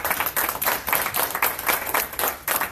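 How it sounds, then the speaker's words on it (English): A small audience claps for a business-education speaker, bright rhythmic applause close and steady for about three seconds, with no voices over it. "one more round of applause."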